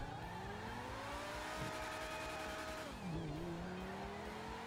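A car in a racing video game accelerates hard, its engine revving up in rising sweeps, dropping briefly around a gear change or impact, then climbing again, loud and continuous with tire squeal and no talk.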